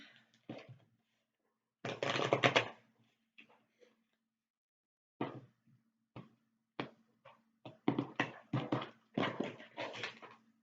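Tarot cards are shuffled by hand in a quiet room: short, soft riffling bursts with pauses between, denser toward the end, and no voice.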